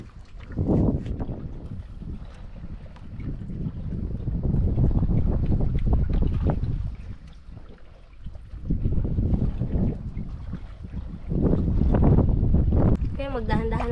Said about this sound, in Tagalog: lalong lumalakas na yung hangin